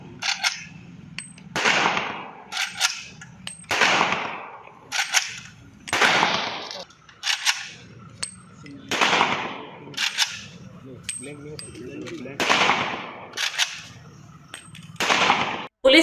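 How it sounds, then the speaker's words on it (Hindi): Police officers, including the superintendent, firing celebratory shots at a Vijayadashami weapons-worship event, sharp gunshots cracking one after another at irregular intervals, each with a short echoing tail. "कार्यक्रम के अंत में एसपी सहित सभी अधिकारियों ने हर्ष फायर भी किया"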